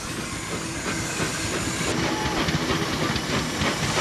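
A steam engine runs on a prony brake with a loud, steady hiss of steam and rhythmic mechanical chuffing and clatter.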